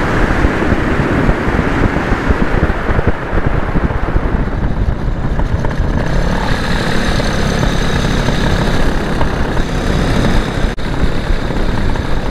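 A small drone flies over an open field near an amusement park and comes in to land, its steady propeller whine and motor drone loud and continuous throughout with no talk.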